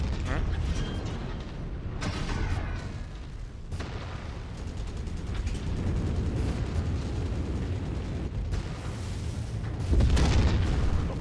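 Weapon salvo explosions from battling mechs in a MechWarrior Solaris arena match, heavy booming blasts and mechanical rumbles rolling continuously, loud and close, with no speech.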